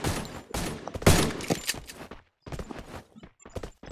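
Video game gunfire in clustered volleys, heavy close shots crowding together in bursts with short gaps and a brief silence midway, fairly loud and with no talking over it.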